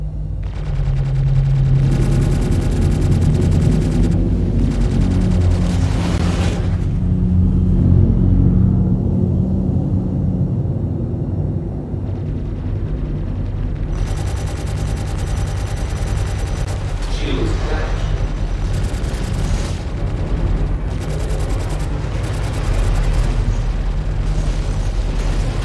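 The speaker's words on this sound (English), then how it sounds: "And he's probably shooting missiles." Space combat in the game Star Citizen, with a continuous loud roar of engines and weapons fire, repeated bursts of booming explosions and missile launches throughout, and people talking over it.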